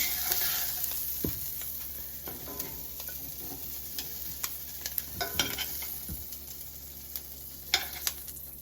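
Asparagus spears are scooped out of a hot sizzling pan, a constant frying hiss under light ticks and taps of a utensil against the pan, with no talking.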